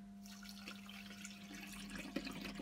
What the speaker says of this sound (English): I'm just going to pour some water in